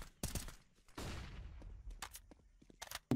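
Rapid bursts of rifle fire in CS:GO during a Fluxo versus 00Nation match: sharp cracks in quick volleys, a longer rolling burst near the middle, then scattered single shots fading out, loud and close.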